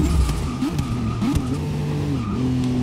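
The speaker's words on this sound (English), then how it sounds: "I have to change gears a lot quicker in this one" Aston Martin DBR9 race car engine in a racing video game, a loud, close engine that climbs in pitch and drops repeatedly through quick gear changes, with a brief tire-squeal-like edge.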